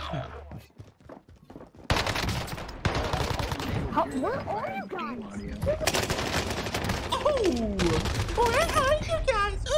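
Call of Duty gunfire on Rebirth Island, dense rapid automatic bursts under game sound effects and excited voices talking over the shooting.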